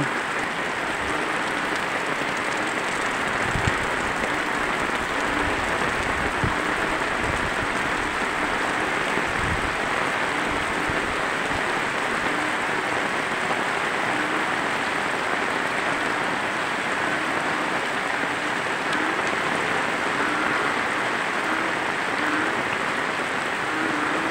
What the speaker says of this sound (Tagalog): Napakalakas ng ulan dito guys.